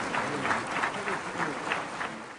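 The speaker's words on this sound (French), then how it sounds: "Et c'est pour ça qu'il y a eu ce tonnerre d'applaudissements." Sustained applause from a large audience following a political speech about France and Jacques Chirac, dense and steady throughout with no voices breaking through.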